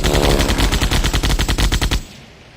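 Biplane machine gun fire in the World War I flight game Sid Meier's Ace Patrol: a loud, rapid burst of evenly spaced shots lasting about two seconds, stopping abruptly into a quiet engine drone.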